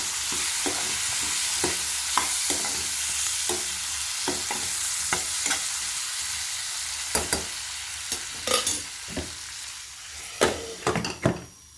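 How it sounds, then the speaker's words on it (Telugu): Cucumber pieces sizzle softly in a pan while cooking for dal, with a steady hiss under intermittent clicks and scrapes of a utensil, the taps growing more frequent toward the end. "ఇప్పుడు దోసకాయ ముక్కలను కూడా ఇందులోకి యాడ్ చేసి ఒక 2 నిమిషాల వరకు మగ్గనివ్వాలి."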